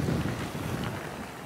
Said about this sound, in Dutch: Maar het waait best wel, dat had ik net ook al gezegd.